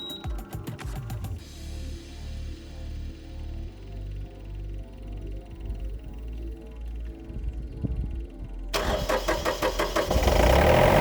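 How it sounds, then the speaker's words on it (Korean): A mini excavator's diesel engine cranks in a few quick bursts after its clogged fuel line has been cleared, then chugs unevenly for several seconds before catching and revving loudly at the end. "연료 라인이 막혀 있었다면 아마 이 정도에서 시동이 걸릴 겁니다"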